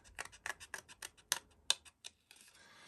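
Scissors snip through stencil paper, cutting out a letter B: a close, steady run of about a dozen crisp snips, then fainter rustling of the paper.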